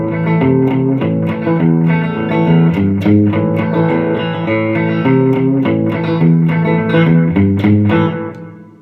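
A rhythm guitar part plays steadily with a driving, even strum, full and loud throughout with no voices over it.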